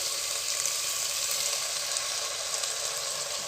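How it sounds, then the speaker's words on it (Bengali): Malabar spinach cooking in a pan for pui shaker chochori, with a splash of water added over the top, giving a steady loud hiss and sizzle that runs unbroken and alone. "হালকা সামান্য একটু জল দিয়ে দেবো ওপরে ওপরে"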